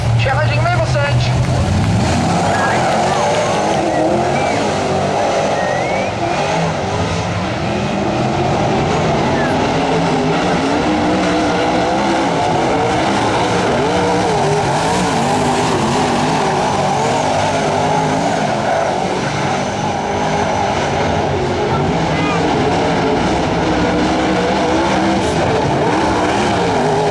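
Sprint cars racing at Springs Speedway in New Zealand during a Sprintcar International round roar continuously at full volume, a dense wall of high-revving engines that never lets up.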